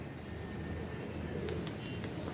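Pigeons coo softly and steadily nearby in a quiet outdoor setting, with a few faint chirps dotting the low, continuous murmur.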